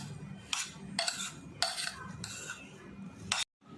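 A spoon mixes Russian salad in a bowl, making about five bursts of clinking, scraping strokes against the sides in a loose rhythm, close and fairly quiet, ending in sudden silence.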